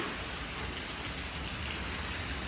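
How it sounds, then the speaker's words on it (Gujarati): Heavy rain pours down in a steady, dense roar during a monsoon downpour, continuous and close for the whole stretch, with no voices. "અહીંયા આપણે ધોધમાર વરસાદ ચાલુ છે"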